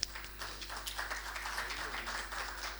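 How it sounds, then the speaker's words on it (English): Conference audience applauding, a dense wash of many hands clapping together at a moderate, steady level with no break. "We will have clapping for that."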